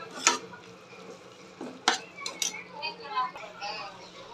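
A utensil scrapes and clinks against a pan as mutton kolambu is stirred with curd, a few sharp metallic knocks among softer shuffling and faint sizzling.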